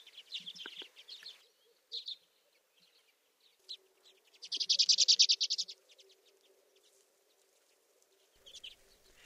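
A flock of redpolls calling in short bursts of twittering chirps, including one louder rapid trill in the middle, separated by quiet gaps.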